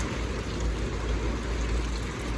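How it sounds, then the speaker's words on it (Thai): Steady rain falling outdoors, a dense even hiss with low rumble, continuous and close for the whole short stretch, no voices. "สภาพทางนอกก็ประมาณนี้แหละนี่ฝนตก"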